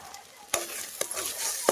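Kalakand, a milk sweet, cooking in ghee in a pot while being stirred, with a soft steady sizzle and three sharper scraping strokes of the spoon spaced about half a second apart.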